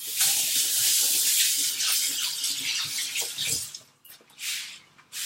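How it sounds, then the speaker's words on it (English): Hands washed under a running kitchen tap while baking cookies, a loud, close, steady gush of water that pauses briefly, then resumes. "Let me wash my hands."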